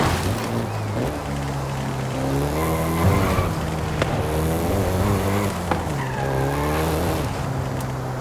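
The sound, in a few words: Volkswagen Golf GTI driving in Forza Horizon video game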